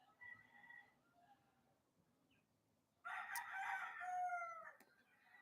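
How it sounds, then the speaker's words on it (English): Roosters crow in the background, one faint call early on, then a louder drawn-out cock-a-doodle-doo lasting about two seconds, with no talk over it. "my voice is competing with the roosters"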